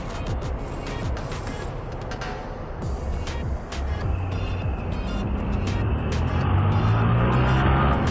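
Steady roar of busy city traffic on Avenida Ipiranga, São Paulo, with cars and motorcycles, engines droning and passing vehicles, no voices, heard from a bike.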